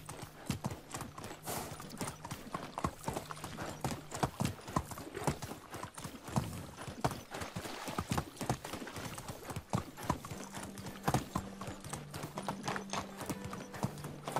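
Horse hooves in the video game Medieval Dynasty clip-clop in a steady walking rhythm throughout, with low tones humming intermittently in the background.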